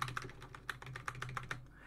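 Computer keyboard keys are pressed while installing Windows NT 4 in a virtual machine, a quick series of about ten crisp, close clicks at an uneven typing rhythm, with no talking.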